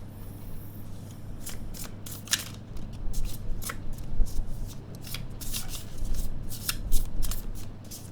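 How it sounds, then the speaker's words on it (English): A deck of cards riffle shuffled in quick crisp bursts of rapid flutter, close by, with no talking. "Quick riffle shuffle."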